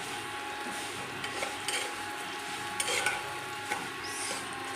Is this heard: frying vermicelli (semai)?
yes